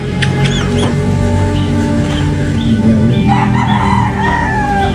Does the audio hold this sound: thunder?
no